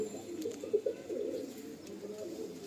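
Abluk pigeons in a loft give low, soft coos that repeat in short bursts, close by and moderately loud over a steady murmur of birds.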